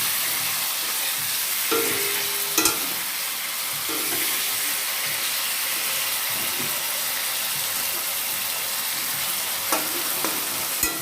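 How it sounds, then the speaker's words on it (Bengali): Pumpkin with chui jhal sautéing in a pan makes a steady hissing sizzle close by, broken by occasional sharp clinks and scrapes of a utensil stirring it. "এবার আমি ভালো করে এটা কষাবো, ভালো করে কষায় নেব।"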